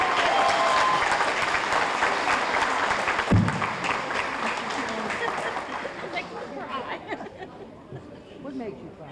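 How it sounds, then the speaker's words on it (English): Loud audience applause at a musicians' hall of fame award ceremony in Shreveport, Louisiana, dense clapping with some crowd chatter, gradually thinning toward the end. "Round of applause for Miss Lynn Cantrell."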